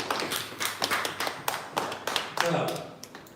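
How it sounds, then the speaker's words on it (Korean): A small church discipleship class clapping together, a run of irregular sharp hand claps and taps, close and fairly loud, with some voices mixed in. "박수하겠습니다."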